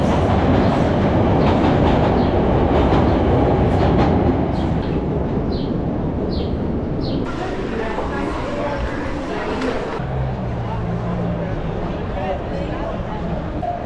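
Chicago subway train ride of about an hour, with a steady loud rumble and rattle of the rail car running continuously, clattering and squealing faintly in places, voices murmuring in the carriage underneath.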